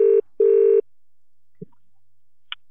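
A phone rings out in two long electronic tones with a short gap between them, followed by silence and a couple of faint clicks, with no voices.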